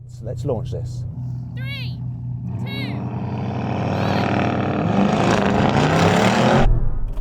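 Cars launch together at a race start, among them a Tesla Model X Performance in Cheetah mode alongside a Lamborghini Urus and a Brabus 850, their rising roar building steadily and loudly over excited voices.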